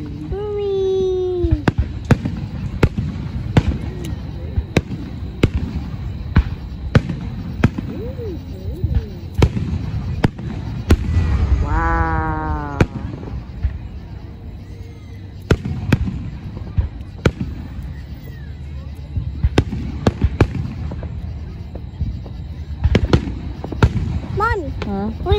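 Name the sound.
fireworks at a 4th of July celebration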